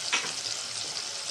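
Tomato and ginger paste frying in oil in a pan while cooking Kashmiri aloo dum, a steady close hiss and sizzle with a brief louder crackle near the start.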